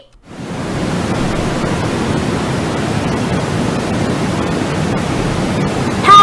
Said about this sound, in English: I'm listening to white noise